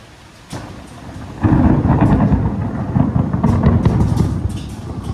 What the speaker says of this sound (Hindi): बारिश तो बहुत ज्यादा जोर से पड़ रही है